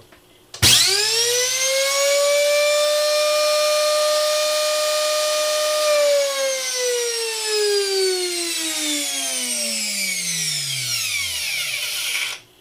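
The electric motor of a YardWorks leaf blower, just repaired, whines up sharply to a loud steady pitch, holds it for several seconds, then winds down slowly and stops. No one speaks.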